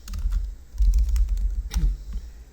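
A short burst of typing on a computer keyboard enters a folder name, a few quick, close key clicks over a low background hum, with no talking.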